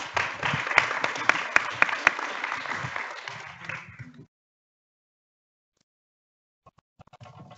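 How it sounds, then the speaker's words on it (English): Applause for a panel at a capacity-building forum, many hands clapping with a few sharp close claps standing out, lasting about four seconds before cutting off into near silence with faint stray noises at the end. "ask for a big hand to the good panel"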